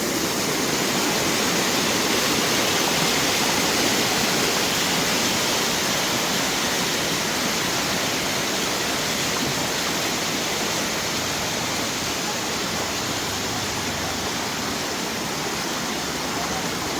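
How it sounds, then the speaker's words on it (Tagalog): Strong floodwater rushes along a road in Eastern Samar during heavy flooding, a loud, continuous roaring wash of water that stays steady throughout. "Lakas ng agos."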